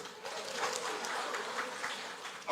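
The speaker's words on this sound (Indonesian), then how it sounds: "Tepuk tangan dulu buat suami." A congregation at a Christmas church service breaks into a dense wash of applause, steady and moderately loud throughout.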